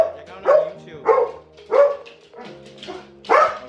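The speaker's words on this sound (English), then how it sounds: "Who are you barking at, pal?" A dog out on a run in Phoenix Park barks in four or five sharp, evenly spaced woofs, loud and close, with a little whimpering between them.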